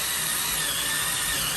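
A Labigo electric scrubber runs steadily, giving a continuous high-pitched motor whir with a brushing hiss, close and moderately loud with no voices.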